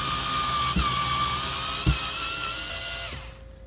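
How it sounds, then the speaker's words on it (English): Black+Decker 4V cordless screwdriver, model BDCS20, running in reverse to back screws out of wood: a steady high motor whine with a few soft clicks, ending as the motor stops, no talking. "we're gonna go ahead and put this in reverse, and we're gonna try and pull these screws out"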